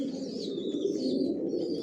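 Racing pigeon chicks in a loft give soft, low, continuous cooing, close and steady, with no other sounds.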